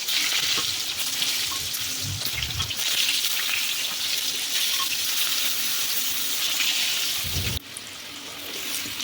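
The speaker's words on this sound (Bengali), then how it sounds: "আলুগুলো ভেজে নেব ওই তেলে" Potatoes fry in hot oil in a pan, a steady bright sizzle running throughout with a few low thumps near the start and a brief dip late on; no one speaks.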